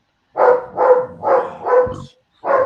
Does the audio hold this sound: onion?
no